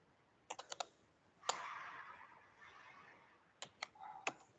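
Computer mouse and keyboard clicks while opening a new script in a programming editor: a few quick sharp clicks in clusters, faint and close, separated by quiet gaps.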